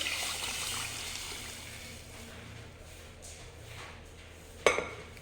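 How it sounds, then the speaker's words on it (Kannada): Water trickles onto a smashed chilli mixture for a chilli rasam, a soft pouring hiss that fades after the first couple of seconds, followed by quiet stillness and a single sharp clink of a utensil near the end. "ಇವಾಗ ಅದು ಸ್ಮ್ಯಾಶ್ ಮಾಡಿರೋದೆಲ್ಲ ನೀರು ಹಾಕ್ತಾ ಇದ್ದೀನಿ ನೋಡಿ"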